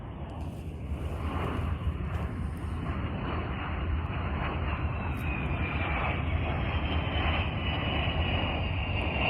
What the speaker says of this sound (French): Juste au-dessus de moi, il y a comme tout le temps des avions qui circulent, ça arrête jamais.